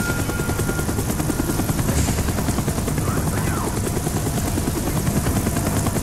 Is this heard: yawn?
no